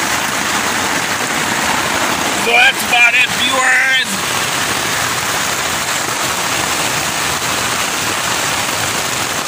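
Heavy rain drums steadily on a tent rain fly during a storm, a dense continuous hiss filling the whole span, while someone speaks briefly partway through.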